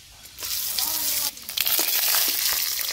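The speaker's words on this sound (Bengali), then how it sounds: "তেজপাতা, জিরে, শুকনো লঙ্কা ফোড়ন দিয়ে দেবো।" Bay leaf, cumin seeds and dried red chillies dropped into hot oil in a kadai for a Bengali dal tempering, giving a loud, steady sizzle and crackle that surges after a brief lull and runs on throughout, with no talk.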